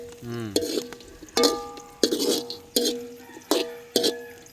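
Boiled meat is stirred in a cooking pot for a village-style dinner, with a spoon making rhythmic scraping strokes about twice a second, each stroke a short clanking scrape that leaves a ringing tone.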